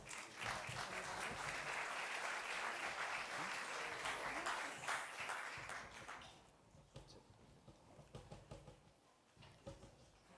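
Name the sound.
audience applause for panel speakers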